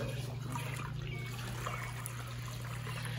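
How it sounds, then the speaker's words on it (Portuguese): Water drains from a washing machine at a grandmother's house in a steady, continuous trickle, with a low motor hum running underneath and no talking. "Já vou colocar pra drenar."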